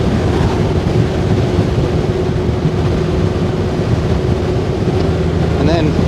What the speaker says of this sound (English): getting some good wind right here